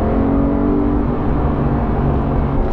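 A Porsche 911 GT3 Touring engine drones loud and close under power, a continuous, deep, rich growl holding steady throughout without any voices.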